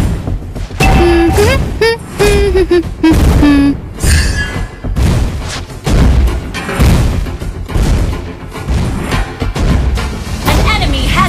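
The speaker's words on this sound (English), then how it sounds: "Our turret has been destroyed." In Mobile Legends, a turret is destroyed amid a steady barrage of booms, thuds and crashing hits, loud and continuous, with game announcer voices over the chaos.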